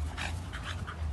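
A dog pants in quick, breathy puffs close by, steady and rhythmic, over a constant low rumble of background noise.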